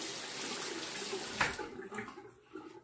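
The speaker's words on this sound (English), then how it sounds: "I'll go ahead and rinse the razor." Running water streams steadily as a King C. Gillette safety razor is rinsed of Proraso shaving foam, then it tapers off into a few softer splashes near the end.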